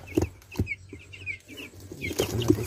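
Young chicks cheep in a large homemade cage, with repeated short, high peeps scattered close by and low clucking-like calls mixed in, with no one talking.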